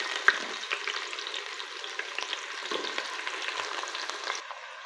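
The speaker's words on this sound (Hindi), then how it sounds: "इन्हें हल्का हल्का हमने गोल्डन फ्राई करना है, बहुत ज़्यादा नहीं।" Two medium onions fry gently in about a cup of oil, a steady close crackle and sizzle with faint stirring scrapes, continuous with no voices until it cuts off near the end.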